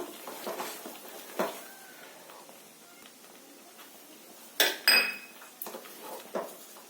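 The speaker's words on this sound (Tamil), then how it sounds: "நம்ம கைவிடாம கலந்து கொடுத்துட்டே இருக்கலாம்" A spoon or spatula stirs a cooking mixture around a pan without pause. Quiet scraping is broken by a few sharp metallic clinks and clatters, the loudest near the middle, with no voices.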